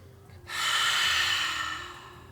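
One long, deep yoga breath drawn in slowly after a short pause, a close, airy rush that holds steady and then gently fades.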